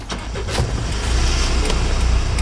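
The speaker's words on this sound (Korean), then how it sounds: "시동 걸어야지" A car's engine turning over during a manual-transmission driving lesson, a loud close rumble that builds and settles into a steady idle.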